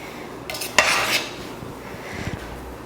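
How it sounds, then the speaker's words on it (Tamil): Soya biryani scooped from a cooking pot into a serving dish, a sharp metallic scrape and clank of a ladle against the vessel, then softer scraping and light clinks of rice being moved. "பிரியாணியை இறக்கிட்டு ஒரு சாப்பிட்றதுக்கு ஒரு பாத்திரத்தில் மாற்றிக்கலாம்"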